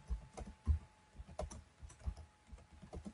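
Keys tapped on a computer keyboard while a search query is entered, a quiet uneven run of close clicks and clacks with short pauses between bursts.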